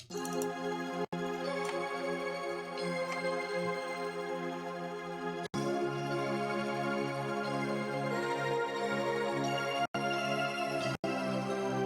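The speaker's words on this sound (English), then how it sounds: "there are some step sounds which are also coming from the Black Metal Keys" Melodic stepped tones from the Black Metal Keys synth, thickened with chorus and grain delay, play in sustained layered chords broken by several abrupt brief cuts to silence, with a shimmering high sparkle on top.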